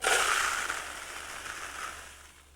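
Water-absorbing granules tipped into a hanging basket make a continuous dry, grainy rustling pour. It is loudest at the start and gradually fades away.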